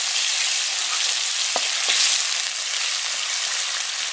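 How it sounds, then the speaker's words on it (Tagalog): A steady, close sizzle rises from a pan for Filipino asado-style tilapia fish steak after a little water is added to simmer, with two faint clicks partway through. "Lagyan natin ng konting water. Hayaan natin kumulo."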